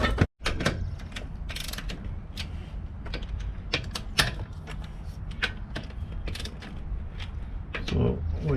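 Rapid ratcheting clicks and creaks from a lock nut being snugged down on a truck mud flap mount on an expedition truck, in close steady bursts with a brief pause near the start.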